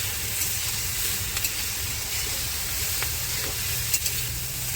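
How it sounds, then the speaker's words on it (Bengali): Ghetkol taro stalks seasoned with salt and turmeric fry in a pan, producing a continuous close sizzle with occasional soft scraping and stirring clicks from a spatula, no voices. "এবার এটাকে একটু ভাজা ভাজা করে নেব"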